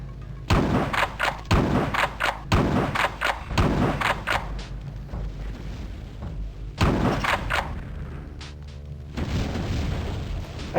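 Heavy shotgun blasts from the Terminator Future Shock video game boom in a series of loud, separate shots with short gaps between them, each followed by a thudding decay.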